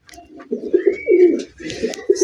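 Pigeons coo in a close, loud run of soft throaty calls at a loft selling domestic and foreign breeds, several bubbling phrases in quick succession with no talk.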